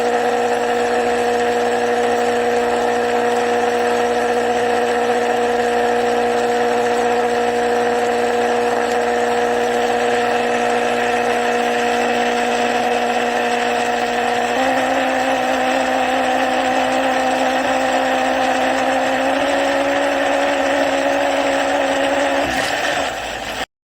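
A countertop blender running to make a frozen dessert, a loud sustained motor whine and churning that holds steady, then steps down in pitch twice as it works through the mix, stopping abruptly at the end.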